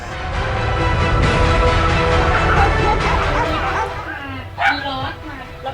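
Puppies bark and yip in a busy, overlapping cluster, close and loud for several seconds before thinning out, with people chattering in the background.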